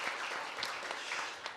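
Steady applause from a church congregation at a Sunday worship service in a Korean church, a dense patter of many hands, fairly faint and brief, with no voices over it.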